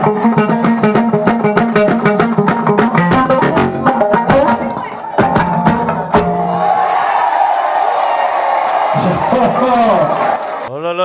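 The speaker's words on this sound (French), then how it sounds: "je vais vous demander encore de l'acclamer, de l'applaudir très très fort." An audience cheers and applauds at a music performance. Loud music with a strong beat plays first, then a dense wash of crowd noise swells as the music thins out near the end.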